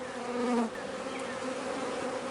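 Steady, dense buzzing of honey bees, nurse bees clustered around a queen in a push-in cage on the comb, close and continuous with no voices.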